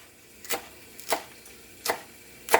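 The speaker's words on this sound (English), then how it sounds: "cut nice thin pieces" A kitchen knife slices an onion into thin pieces, four crisp chops on a cutting board spaced well apart, close and clear over faint room noise.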